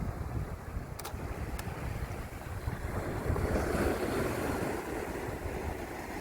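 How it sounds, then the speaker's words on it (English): Ocean water washing and receding over coastal rocks at Wyalup Rocks, a steady broad rush of surf mixed with wind buffeting the microphone, swelling slightly midway, no voices. "we might get a nice little bit of movement actually in that water as it recedes."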